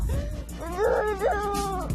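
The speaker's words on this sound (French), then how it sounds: "Il m'a fait peur le chien." A dog howls and whimpers in a rising, wavering whine lasting about a second, loud and close, with faint background noise around it.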